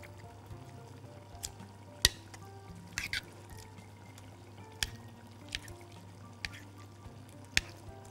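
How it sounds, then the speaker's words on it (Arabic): Minced meat and eggplant being stirred and sizzling in a pan, a steady frying hiss with scattered sharp clicks of a utensil against the pan and a low hum underneath, no voices. "هنقلبها بس لغاية ما كلها تندمج مع بعضها"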